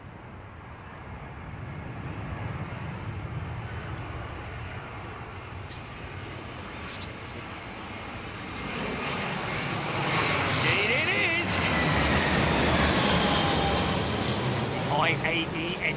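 A jet airliner takes off at London Heathrow Airport, its engine roar building into a loud, rushing swell with Doppler-like sweeps as it climbs past, while someone talks over the noise.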